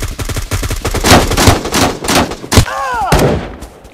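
Pistol gunfire in the mobile shooter Bullet Force, a loud, close series of shots with other gunfire and game noise around it, plus a short ringing whine near the end.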